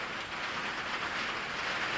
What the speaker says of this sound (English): that's thunder and lightning and rain again